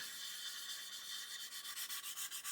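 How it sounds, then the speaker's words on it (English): A hand sanding stick rubs back and forth across a mould seam on a plastic scale model, a soft hissing scrape that grows into regular strokes toward the end, close and quiet. "Just let the sanding stick do the work, don't push"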